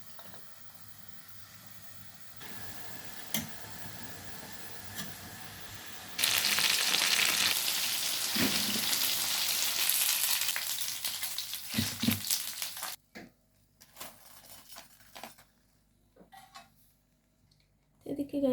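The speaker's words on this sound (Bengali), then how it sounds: "আর এদিকে চিকেন পপকর্নটাও ভেজে নিব" Chicken popcorn fries in hot oil, a dense loud sizzle that swells in the middle and then drops away, with scattered clicks and kitchen knocks around it and a voice talking in the quieter stretches.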